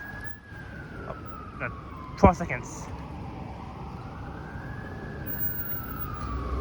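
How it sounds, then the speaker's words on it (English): Emergency vehicle sirens wail along a snowy downtown Toronto street, a rising and falling tone moderately distant under traffic noise, with someone talking briefly. "And I'm still hearing sirens."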